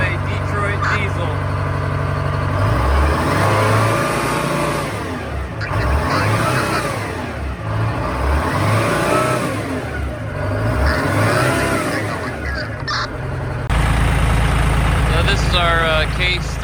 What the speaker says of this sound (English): Sound of a Detroit diesel.